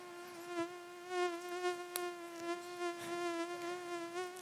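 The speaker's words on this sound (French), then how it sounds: "Le moustique." A mosquito whines close by in a steady high-pitched buzz that swells and fades slightly as it moves, with one sharp click partway through and no talking.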